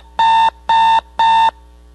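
Timer alarm in a city council chamber signalling that a speaker's question time has run out: three evenly spaced electronic beeps, each about a third of a second, loud and clear with no talking.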